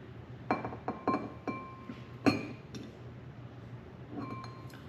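Unfiltered organic apple cider vinegar is spooned into a glass, giving several sharp glassy clinks of a spoon against the rim at irregular intervals over a quiet room background.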